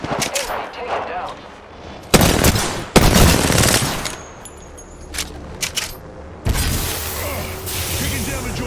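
Gunfire in Apex Legends while playing Gibraltar, loud overlapping shots and bursts that come and go across the clip over a constant battle din, with voice lines heard now and then.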